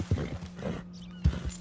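A couple of hoof thuds and clip-clops from a horse in the video game Red Dead, with a low steady hum underneath, brief and fairly quiet.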